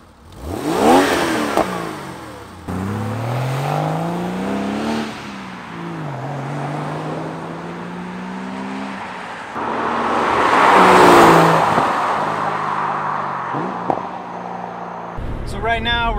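A 1995 Porsche 993 Cabriolet with a cat-bypass X-pipe and Maxflo mufflers revs and accelerates through several gears, its engine note rising and dropping in repeated sweeps, heard loud and close from the cabin.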